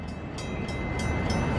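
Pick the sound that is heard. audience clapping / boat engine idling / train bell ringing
train bell ringing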